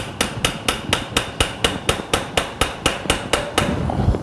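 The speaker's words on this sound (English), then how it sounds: "We then impact it in place." Mallet blows drive a total knee replacement implant into place through an inserter during surgery, about fifteen sharp, evenly spaced strikes in a steady rhythm, loud and close, with no talking.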